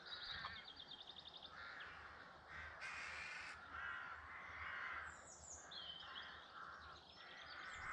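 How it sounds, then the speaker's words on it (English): Rooks caw on a farmyard, harsh calls in short runs coming from a moderate distance over a quiet outdoor background, with a few other bird notes mixed in. "there's a few crows feeding on this farmyard"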